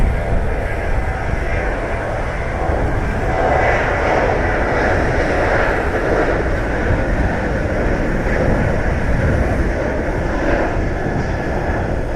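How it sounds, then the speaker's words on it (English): A Southwest airliner in Triple Crown One livery departs Columbus airport bound for Austin, its engines giving a continuous loud broadband roar that holds steady throughout. "Southwest 1140 Triple Crown One heading to Austin, Texas."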